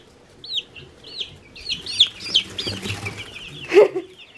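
Guinea fowl on a farm call in a rapid series of squeaky chirps, then flap their wings in a close flurry near the end, with mixed farmyard sounds underneath.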